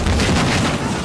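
A loud, booming explosion from the video game Battlefield Hardline fills the whole second, a dense rumbling blast with no talk over it.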